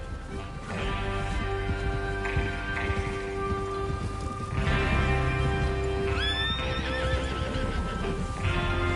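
Horses in a video game whinnying and neighing several times over steady hoofbeats and a rain-like wash, with a lingering musical tone in the background.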